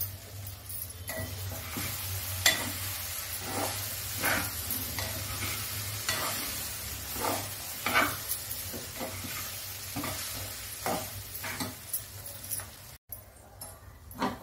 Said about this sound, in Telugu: అటుకులు నేను బాగా మిక్స్ చేసేసుకోవాలి